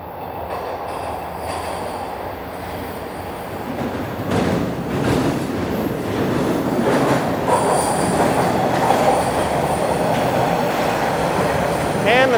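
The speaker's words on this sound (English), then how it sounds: "Comes a southbound train." A Toronto streetcar on King Street rumbles past close by, building in loudness, with high metallic wheel squeals rising near the end.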